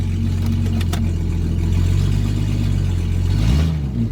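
A Jeep Grand Cherokee ZJ engine with no muffler runs loud and close, a steady raw drone that swells slightly as it revs near the end.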